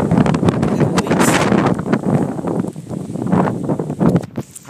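Hurricane Sandy gusts roar across the microphone in a steady, loud rush of buffeting wind noise with rustling surges, continuous for several seconds and without speech.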